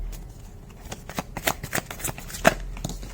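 Tarot cards being shuffled by hand up close: a quiet run of crisp, papery riffles and taps in irregular bursts, with a louder snap near the end.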